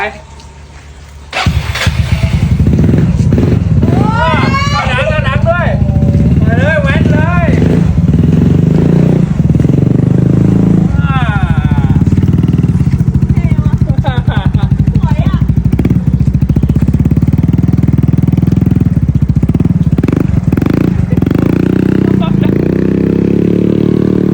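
A motorcycle is ridden around in circles, its engine puttering and revving steadily after a sudden start, while several people talk and shout excitedly over it throughout.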